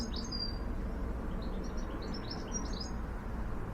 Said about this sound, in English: that's all I hear in the garden, goldfinches singing